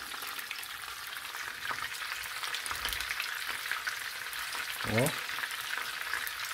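Large battered king prawns fry in hot oil, a continuous close crackling sizzle with bubbling pops, and a brief voiced exclamation near the end.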